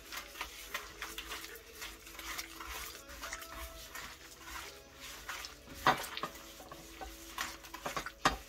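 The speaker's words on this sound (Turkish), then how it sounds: "Şunları bir karıştırıyoruz bu şekilde." Red hot and sweet peppers are stirred in a pan, with repeated scraping and clinking of a utensil against the metal, an irregular rhythm close by and a soft sizzle beneath.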